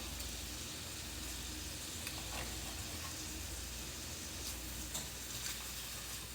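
Small pieces of shrimp sizzle steadily in a stir fry pan, a continuous even hiss with faint crackles, close and alone with no talk.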